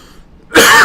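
A man gives a single sharp, close cough after a brief quiet moment, loud and raspy, while suffering from a chesty cough.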